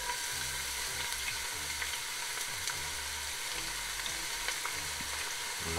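Chopped onion fries in three spoonfuls of hot extra virgin olive oil, a loud, steady close-up sizzle that crackles without pause and has no talk over it.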